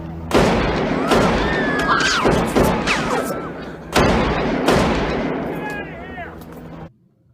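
Rifle gunfire from a film scene with a shooter on a second floor: several loud, sharp shots with echoing tails, spaced irregularly, with shouting voices in between, before an abrupt cut to near silence.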